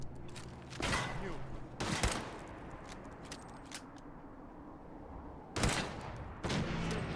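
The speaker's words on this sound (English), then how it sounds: "So activate vertibird minigun." Vertibird minigun firing in Fallout 4: harsh, sharp bursts of rapid gunfire, four short volleys spaced apart over a low rumbling background, fairly loud and close.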